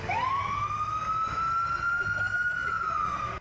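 Kennewick Fire emergency truck siren wailing steadily on the road, a single sustained rising-then-level tone close and loud over low traffic rumble.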